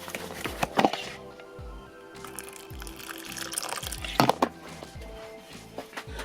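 Water poured to top up a small spider's water dish: a brief trickle and splash near the start, another around the middle, then drips amid soft handling noises close by.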